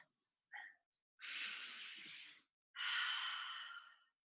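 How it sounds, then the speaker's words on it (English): Two long, slow breaths during a vinyasa yoga flow, each a soft drawn-out inhale-exhale rush lasting over a second, close and quiet, preceded by a few faint short sniffs. "we're just going to do one more nice deep breath, and then gently come back"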